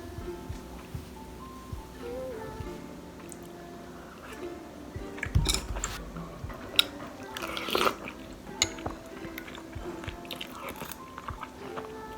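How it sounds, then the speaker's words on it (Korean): Close, quiet chewing and a few soft crunches of a small low-calorie diet breakfast bowl with sliced banana, eaten alone with occasional faint clicks and no talking. "일단 이거 맛있게 먹어보도록 할게요"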